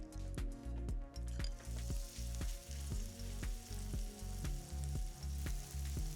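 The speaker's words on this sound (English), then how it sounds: "Just pop small spoonfuls into a pan and brown on each side." Veg-kraut fritters sizzle in hot oil in a non-stick pan, a steady close frying hiss with rhythmic pulses and a low background hum throughout, no voices.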